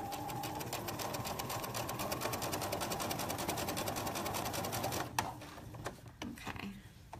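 A sewing machine back stitches over a seam, its needle hammering in a fast, steady rhythm for about five seconds before stopping, followed by a few scattered clicks and handling sounds.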